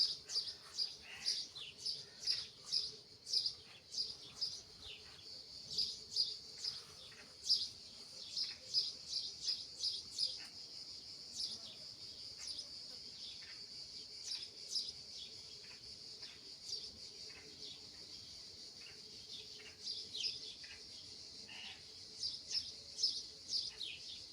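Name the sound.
birds singing in Greek village yard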